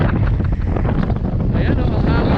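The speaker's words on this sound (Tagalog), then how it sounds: "Ayan o. Sandstorm pa rin." Strong sandstorm wind roars across the desert at Al Kharrara, Qatar, during a mountain bike ride, buffeting the microphone in a loud, continuous, gusty rush.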